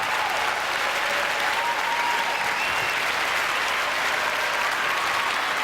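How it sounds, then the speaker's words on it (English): Loud, steady audience applause for Torvill and Dean at the 2006 Dancing on Ice grand final in Australia, a dense clapping crowd filling the whole stretch without pause and with no talk over it. "Ladies and gentlemen, a round of applause, please, for Torvill and Dean."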